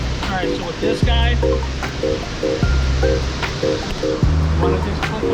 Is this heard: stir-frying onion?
no